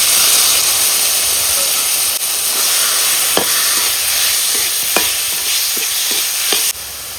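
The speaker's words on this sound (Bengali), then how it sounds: "কচু পাতাটা ভাজকে নেব তেলে" Taro leaves frying in hot oil with black cumin, garlic and salt give a loud, steady hiss and sizzle close up, broken by several soft clinks and scrapes of stirring.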